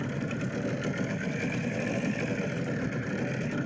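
Steady low engine drone of a boat in a Unity video game, a continuous idling hum with a buzzy, sewing-machine-like texture that holds at a constant level throughout, with no voices over it.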